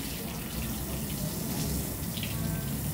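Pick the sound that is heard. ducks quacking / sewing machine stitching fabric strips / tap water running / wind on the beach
tap water running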